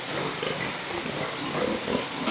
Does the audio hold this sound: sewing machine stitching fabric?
no